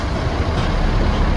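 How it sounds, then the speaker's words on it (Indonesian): Buses at the Situbondo bus terminal: a loud, steady diesel engine rumble dominates up close, heavy and continuous, with no talk. "Nah ini kita sudah sampai di terminal"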